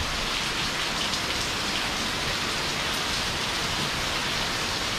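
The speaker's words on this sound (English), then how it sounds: "kick back and enjoy the sounds of the rain." Steady rain falls continuously in Phala, Ban Chang, Rayong, Thailand, a dense even hiss of drops on surfaces with no pauses or other sounds.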